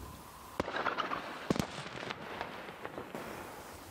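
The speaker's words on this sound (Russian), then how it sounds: "сегодня в сети появилось видео залпов в разных концах города" Volleys of fire across Donetsk at night, a series of sharp distant bangs and cracks at irregular intervals, with two strong blasts clustered in the middle, echoing over quiet city background.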